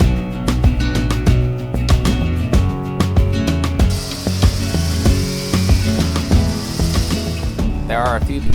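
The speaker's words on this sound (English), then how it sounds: "sanding the bottom to start the osmosis treatment" A power sander grinds steadily and loudly against a fiberglass sailboat's bottom, sanding down to glass for osmosis treatment, a continuous abrasive whine with rattling, uneven scraping throughout.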